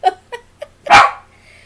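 A house dog on guard gives three short sharp barks in quick succession, then one louder, longer bark, close and alone with no talking.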